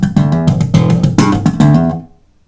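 A bass guitar plays a slap groove, with crisp percussive slaps and pops in a fast syncopated run, loud and close, ending on a decaying note.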